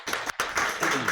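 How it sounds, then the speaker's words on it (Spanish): A church congregation breaks into loud applause at a Sunday morning Lord's Supper service, a dense wash of many hands clapping close by with a brief gap before the clapping swells again. "pido un fuerte aplauso en esta mañana"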